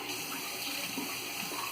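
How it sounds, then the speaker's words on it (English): A hotel sink tap runs without any water held in the basin, giving a steady, even hiss of flowing water close by and at moderate volume, with no voices. "you're going to be hearing more of the water noise since I don't have any water filled up"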